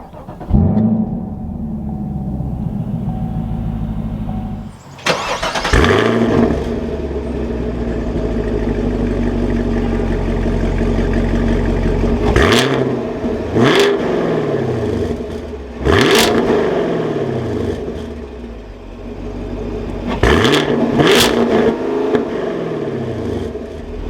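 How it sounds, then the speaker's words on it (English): A 2021 Chevrolet Camaro 2SS 1LE starts with a sharp crank and roar, settles into a deep idle, then gives several quick throttle blips that rise and fall back to idle, loud and close. "keeping my foot on the brake, we can go ahead and fire it up."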